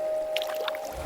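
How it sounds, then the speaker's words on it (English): An ancient wooden boat on dark water gives off faint creaks and soft watery squelches, a few brief groans over a quiet steady hum. "you hear the slow creak of an ancient wooden boat"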